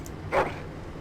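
A dog in the Dragon Age: Origins video game gives a single short, fairly loud bark or yip, standing alone over a low background hum.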